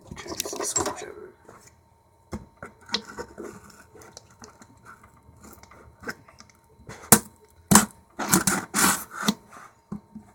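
Screwdriver prying and scraping at an eBay shipping package, giving scattered clicks, scrapes and sharp cracks that build into a burst of louder snapping and tearing near the end, with a voice talking in between.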